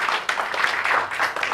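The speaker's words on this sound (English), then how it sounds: "can you please give Fiona Anson a huge round of applause" Audience applause for a performer on a stage show: a steady, moderately loud wash of many hands clapping, continuous through the short stretch with no talk over it.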